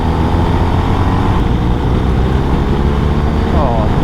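A 2023 BMW R 1250 RS SE motorcycle pulls smoothly out of bends in road mode, giving a loud, constant engine drone mixed with wind rush, with a rider's voice talking over it.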